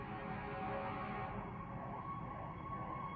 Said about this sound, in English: I hear a fire engine quickly approaching.